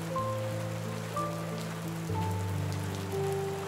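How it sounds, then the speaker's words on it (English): Rain falls in a steady, close patter of drops on a surface, continuing throughout beneath soft sustained musical tones, with no voices. "She wants to watch the rain one last time."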